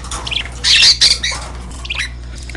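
Pet birds kept loose outside a cage with a nesting box give several loud, harsh squawks close by, with bursts grouped near the start and a softer call toward the end, over a steady low hum.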